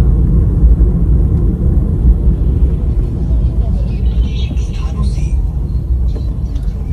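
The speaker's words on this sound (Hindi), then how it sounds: "ट्रैफिक ट्रैफिक हो रहा है।" Steady road traffic rumbles on a Delhi street in the morning rush, a continuous loud low drone of passing vehicles with faint higher engine tones drifting through.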